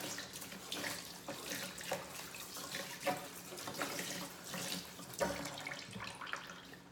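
A tap runs steadily as a juicer's container, just emptied of celery juice, is rinsed out under it. The rushing water is continuous and close, with small splashes and surges throughout and no voices.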